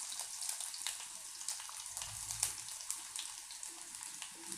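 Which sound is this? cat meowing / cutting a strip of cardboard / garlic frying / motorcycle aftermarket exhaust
garlic frying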